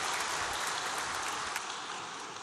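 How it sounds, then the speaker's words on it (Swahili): Delegates in a meeting hall applauding for Mheshimiwa Mavunde, a sustained, even roar of many hands heard from a distance at moderate volume. "wajumbe pia tumpigie makofi mengi Mheshimiwa Mavunde kwa kuwa nasi"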